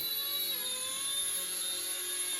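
An RC ERA C184 MD 500 model helicopter takes off automatically, its small rotor and motor giving a steady high-pitched whine and hum, close and constant throughout.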